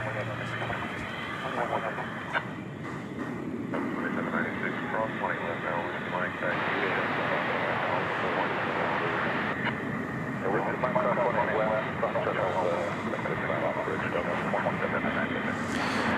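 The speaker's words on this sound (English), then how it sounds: "There's the tri-jet." A tri-jet airliner at DFW airport at night, its engine roar steady and fairly loud from start to finish, with a broadband rumble and a whine in the upper range, and a few faint background voices mixed in.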